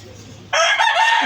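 Pet parrots in a cage let out a sudden loud, raspy squawking call, harsh and close, following a brief stretch of quiet low background.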